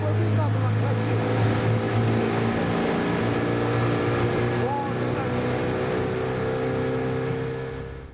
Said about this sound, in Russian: это в реке плывет сам на моторе. Сильный, полный газ.